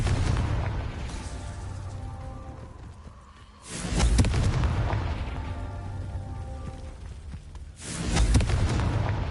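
Confringo, an explosive fire spell in a Harry Potter video game, lets off two heavy, booming blasts a few seconds apart, each followed by a loud, rumbling roar that slowly fades.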